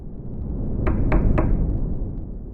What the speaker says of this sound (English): Food delivery knocked.